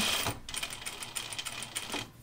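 A sewing machine stitching a French seam along the underarm of a button-up shirt, a faint rapid patter in short bursts with brief pauses between runs.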